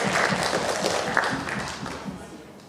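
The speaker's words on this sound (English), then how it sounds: "Let's give Isaac a round of applause." Young grade-school math contest audience applauding for a student, a dense patter of many hands with a few voices mixed in, fairly steady and tapering slightly toward the end.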